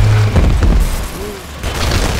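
Armor-piercing rounds fired from a gun in BioShock 2 Remastered, a few loud heavy booming shots in quick succession with mechanical clatter between them, close and punchy.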